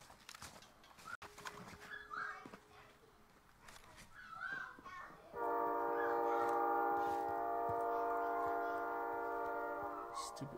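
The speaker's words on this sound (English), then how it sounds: "Stupid train." A train rolls past in Call of Duty Warzone, its loud, sustained horn-like tone cutting in midway after a stretch of quieter in-game noises and distant sounds.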